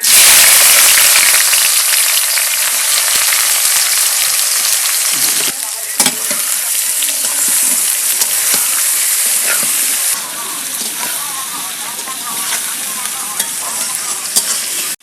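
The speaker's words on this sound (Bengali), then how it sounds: "পেঁয়াজ ভাজি" Onions frying loudly in hot oil with bay leaf and garam masala in a village kitchen, a continuous close sizzle with stirring scrapes and clatters throughout.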